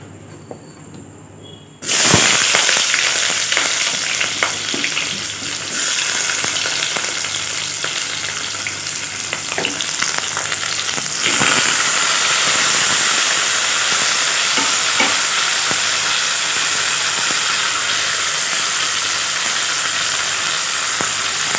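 Onion, green chili and tomato hit hot oil in a pan, bursting into a loud, sustained hissing sizzle after a short quiet start, with occasional scraping stirs throughout.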